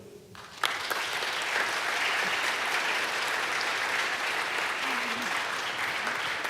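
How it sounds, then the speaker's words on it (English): Sustained audience applause fills the hall at the European Charlemagne Youth Prize 2024 ceremony in Aachen, a dense, steady wash of many hands beginning abruptly after a brief quieter moment and continuing evenly throughout. "Another big round of applause, please."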